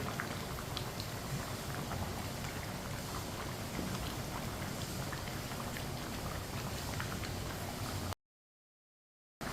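Moong dal khichdi simmers in an uncovered pot, giving a dense, steady bubbling and crackling hiss throughout, close and even, before cutting to silence near the end.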